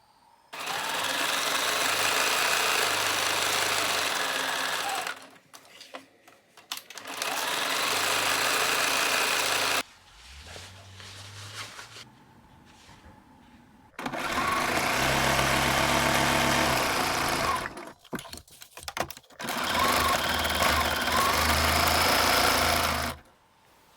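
A sewing machine stitches a fabric pocket with a French seam in four long steady runs, separated by short pauses filled with softer handling noise.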